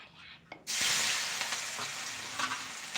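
Onion sautéing in a pan, a steady close sizzle and hiss that starts abruptly after a brief quieter moment and continues with light stirring scrapes.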